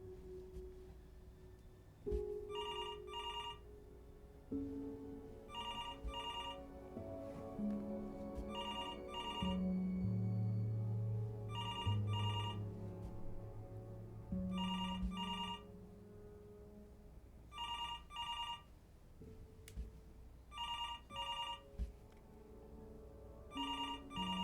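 A telephone rings in the video game Before Your Eyes, sounding as evenly spaced electronic double trills repeated about eight times over low, swelling background music.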